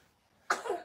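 A single short, sharp cough bursts out after near silence, close and fairly loud, with no talking around it.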